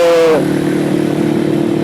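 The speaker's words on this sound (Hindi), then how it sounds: "मतलब अगर रोड अच्छी हो तो आपको पता भी नहीं लगता कि आप वाकई 100 पे जा रहे हैं इस बाइक के ऊपर" A KPR 200 motorcycle rides on the road, giving a steady engine drone mixed with constant wind roar after a brief higher engine tone at the start.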